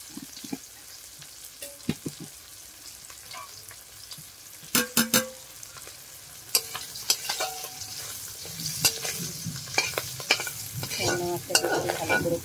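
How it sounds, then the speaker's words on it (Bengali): Shrimp fry in a hot pan with a soft, even sizzle, broken by sharp clatters and scrapes of a utensil stirring against the pan. No voices are heard. "চিংড়ি মাছটাকে ভালো করে ভেজে নিলাম"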